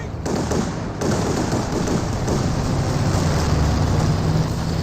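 An aircraft strafing run in Company of Heroes 2, a dense, continuous roar of rapid gunfire and engine noise, loud and close, filling the whole stretch without letup.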